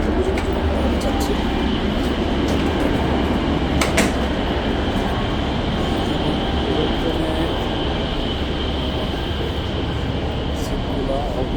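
A high-speed bullet train in China running through a tunnel, heard from inside the carriage as a steady loud low rumble and roar with faint rhythmic clicks and occasional knocks.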